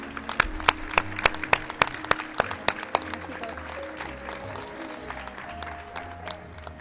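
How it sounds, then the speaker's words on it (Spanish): Applause for Pilar Segura at a political caravan event in Tarazona: a burst of sharp, distinct claps from a modest crowd, strongest early and tapering off, with some murmuring voices beneath. "un aplauso"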